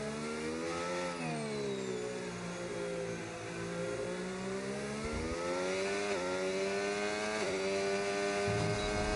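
Aston Martin race car in a racing video game at Silverstone, a continuous high, buzzing engine note that rises and falls with gear changes and throttle over several seconds, loud and steady, with no talk over it.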